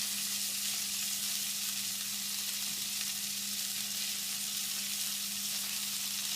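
Venison steaks brown in a skillet with a constant loud sizzle and crackle of frying fat, steady throughout with no voices.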